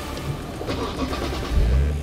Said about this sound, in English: You can start the engine first.